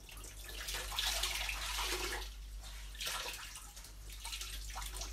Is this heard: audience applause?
no